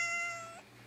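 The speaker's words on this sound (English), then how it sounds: "Are you a silly kitty?" A pet cat gives a single clear meow, close and fairly loud, with a rising then falling tone lasting just over half a second, then quiet room tone with no talking.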